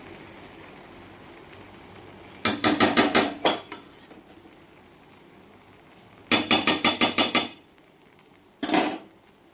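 Metal spoon scraping and clattering against a pot while rice is stirred, in two fast rattling bursts of quick strokes and a short final clank, separated by near-silent pauses.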